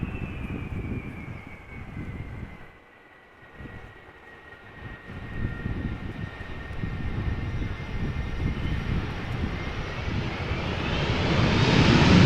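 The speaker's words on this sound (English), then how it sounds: "Finally an airplane that applies the reverse thrust." A landing jet airplane roars on the runway at Amsterdam Schiphol Airport, engine whine holding steady before reverse thrust swells the roar louder and rougher, building to a heavy rumble at the end.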